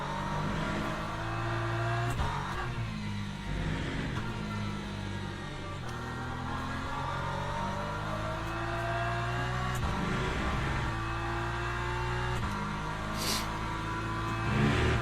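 Multiclass race cars in the Le Mans Ultimate sim at Silverstone hold a constant layered engine drone, with higher engine notes rising and falling as they accelerate and shift. The sound is continuous and moderately quiet, and no one speaks.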